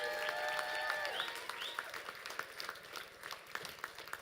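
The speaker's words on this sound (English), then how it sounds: "Give them a round of applause." Wedding guests at a Hindu Vivaah Sanskar ceremony applaud the newlyweds, scattered clapping from a small gathering that starts under sustained instrumental tones, then continues as distinct, moderately distant claps.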